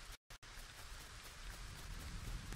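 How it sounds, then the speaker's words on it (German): Rain falling in the video game LEGO Fortnite, a steady soft hiss of raindrops with a low rumble beneath, faint and continuous, briefly cutting out near the start, no talking. "ich muss warten, bis der Regen vorbei ist"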